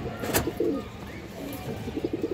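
A restless female pigeon coos in a few soft, repeated low bursts, close by, with a sharp click and faint background noise.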